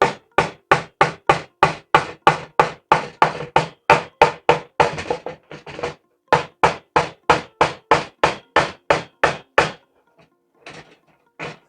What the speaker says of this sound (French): Un petit coup de marteau.